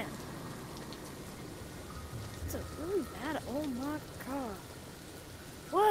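Steady rain falls throughout a scene in The Walking Dead video game, a continuous soft hiss beneath occasional game sounds and a voice speaking briefly.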